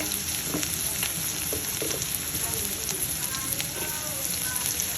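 Spices with red chili and turmeric fry in a pan, giving a continuous close sizzle with faint spattering and occasional stirring scrapes, and no one speaking.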